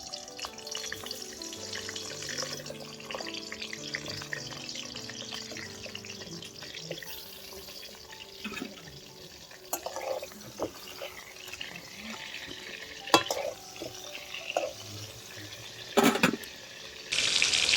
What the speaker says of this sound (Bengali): তো আমি পটলগুলো ভেজে নিচ্ছি।